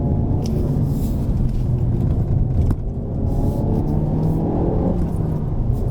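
A car's engine runs steadily with a low rumble in close interior perspective, with a brief dip near the middle and pitch shifts that suggest rev-matched downshifts to second gear during heel-and-toe driving.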